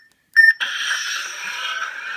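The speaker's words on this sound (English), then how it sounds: "Once you hear that first beep" The Blaster Core sound board inside a Han Solo DL-44 blaster prop gives a short, sharp electronic beep, followed immediately by a sustained brighter electronic tone that holds steadily to the end, close and fairly loud.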